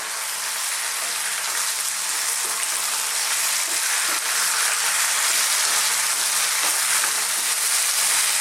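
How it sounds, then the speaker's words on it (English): Chicken potato curry ingredients frying in a pan over lively, above-medium heat, giving a steady, dense sizzle that holds close and even throughout with faint occasional stirring ticks. "We're going to fry this for about 3 to 4 minutes."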